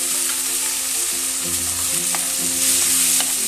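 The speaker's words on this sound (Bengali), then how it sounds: "পেঁয়াজটা ভাজা হয়ে গেছে, এর মধ্যে আমি দিয়ে দিচ্ছি টমেটোটা, যে টমেটোটা আমি পেস্ট করে রেখেছিলাম।" Puréed tomato paste hits browned onions frying in oil, setting off a loud, continuous close-up sizzle with stirring, while steady tonal hums run underneath.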